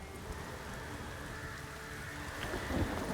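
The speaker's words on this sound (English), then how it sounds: "Do we want to do it in the rain?" Steady rain falls in the video game The Witcher 3: Wild Hunt, a soft continuous patter and hiss with a faint distant rumble, swelling slightly near the end.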